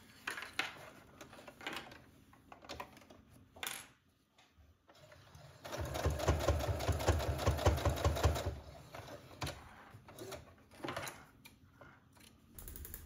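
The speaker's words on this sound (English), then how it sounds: "So when you serge this on," A serger overlocks a cardigan seam, a fast rattling whir that runs for a few seconds mid-clip, with shorter mechanical bursts and clicks before and after, close and moderately loud.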